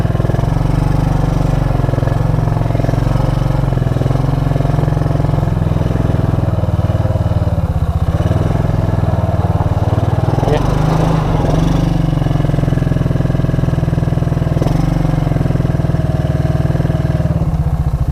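A 2001 Suzuki Quadrunner 250 4x4 ATV engine with a sticking throttle runs continuously, with a loud, close, steady putter throughout. A person talks over the engine.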